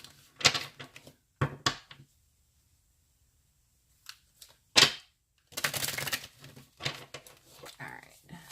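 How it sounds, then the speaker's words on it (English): Tarot cards are shuffled by hand during a card reading. Brisk riffling and flicking bursts come close and fairly quiet, separated by short silent gaps. "I'm going to shuffle a few times"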